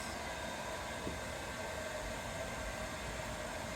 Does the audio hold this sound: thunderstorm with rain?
no